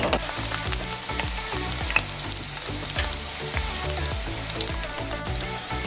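Garlic sizzling steadily in oil for aglio e olio, a loud, dense crackle of frying that runs without pause, close up, with no talking.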